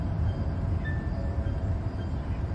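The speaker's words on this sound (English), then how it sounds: "I heard a train honk in here." A train passing inside or near a museum building, heard as a steady low rumble of wheels and cars with a faint high tone partway through, continuous and moderately loud.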